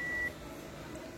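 A multimeter gives a continuity beep as its probes land on a short to ground on the SSD supply of a 2019 MacBook Pro A2141. The beep is a clear, steady tone lasting about a quarter second, then it cuts off into quiet background.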